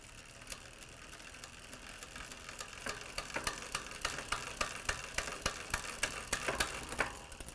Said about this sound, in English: as I pedal the bike, I'm going to increase the tension on the cable by turning the barrel adjuster out